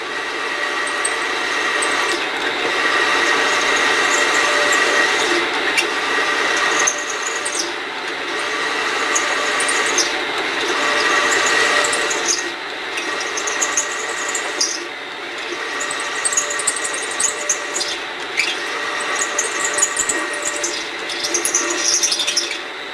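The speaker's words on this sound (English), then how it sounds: "we got our short drill, so that we can come down in here and just drill down through." A power drill with a short bit whines steadily as it bores through cast aluminum, with a high grinding squeal that dips and resumes in bursts.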